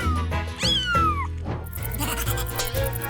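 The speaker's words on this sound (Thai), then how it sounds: "เนี่ยเป็นแมวของฉันเองล่ะ" A pet cat meows up close with a few drawn-out, rising and falling cries, followed by quieter murmurs and rustling.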